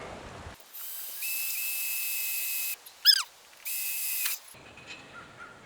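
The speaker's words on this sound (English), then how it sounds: "we're drilling a hole to put the other screw for the bracket in" A drill bores a hole for a purlin bracket screw on a hoop house frame, giving two sustained whining bursts split by a short squeak, followed by quiet handling noise.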